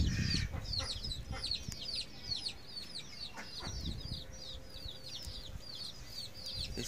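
Hens cluck repeatedly in a lively farmyard as one pecks, with many short overlapping calls and a steady background rustle of birds.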